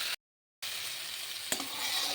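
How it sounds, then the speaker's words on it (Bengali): Spices with turmeric, cumin, salt and green chillies frying in a pan while being stirred, a steady close sizzle broken by a brief gap near the start and one small scrape midway. "তো এটাকে আমি হালকা নাড়াচাড়া করে নেব"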